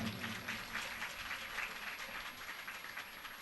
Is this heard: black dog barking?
no